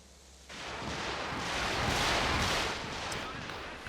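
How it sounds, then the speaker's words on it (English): Walking Stuka rocket barrage in Company of Heroes 2 breaks in suddenly as a broad roaring rush of explosions that swells, peaks, then eases slightly, loud and continuous. "The flares out, walking Stuka coming through."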